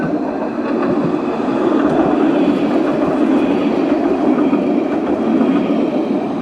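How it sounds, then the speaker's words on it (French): A tram-train runs past near Bordeaux, its steady rolling rumble and faint rail clatter close and continuous throughout, with no talking over it. "Et c'est un tram."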